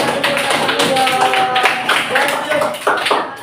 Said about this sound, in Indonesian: silakan kasih tepuk tangan untuk kelompok